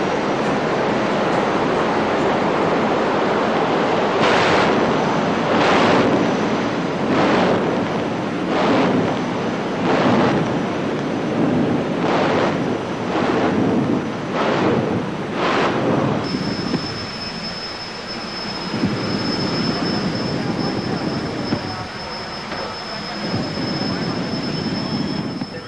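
Loud, continuous roaring jet car engine thrust at a drag strip starting line, with a series of sharp rhythmic bursts, followed by a sustained high whine over the rumble.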